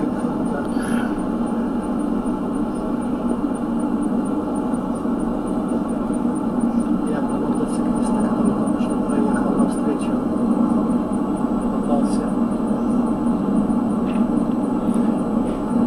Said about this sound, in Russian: Вот шум асфальта, он перебивает разговор в салоне автомобиля.